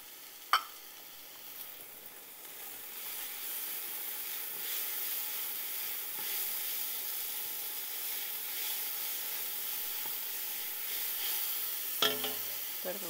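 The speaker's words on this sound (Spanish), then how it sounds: "Sofreírlo unos 3 minutos." Vegetables sautéing in a pan for a minestrone-style soup give a soft, even sizzle throughout, with a sharp utensil clink near the start and another near the end.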